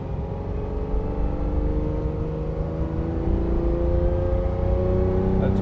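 A 1967 Ferrari 330 GTC cruising down a farm road, its engine a steady close drone whose pitch climbs gradually as it picks up speed.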